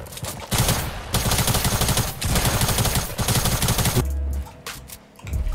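Pump shotgun fire in the Fortnite arena mode rings out in loud, dense, rapid bursts of shots separated by brief gaps, ending in quieter scattered pops.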